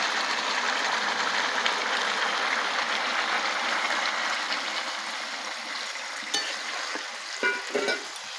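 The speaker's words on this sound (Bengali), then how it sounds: "এবারে আমি একটু জল দিয়ে দেবো।" Water poured into a pot of browned, cooked-down chicken for a village-style biryani: a steady, close rushing and sizzling hiss that runs continuously, then thins out with a few splashy bursts near the end.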